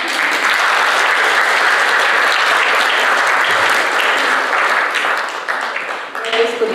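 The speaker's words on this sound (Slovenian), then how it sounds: "Zdaj si pa vi zaslužite, ker ste to narisali, aplavz." An audience at the opening of an art exhibition claps in a loud, dense round of applause that lasts about six seconds and then thins out at the end.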